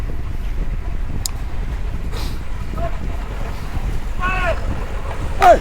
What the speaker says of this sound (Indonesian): ini headwind-nya emang kenceng banget di sini